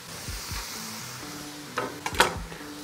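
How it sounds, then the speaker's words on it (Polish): Chopped onion dropped into a pan of frying meat, a soft steady sizzle with a few clattering stirs and scrapes near the end, fairly quiet and close. "Cebulę musimy wrzucić do mięsa."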